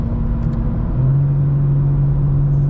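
A BMW G82 M4 with S58 engine and valvetronic exhaust cruises at low revs, a loud steady droning rumble whose pitch steps down partway through and then holds.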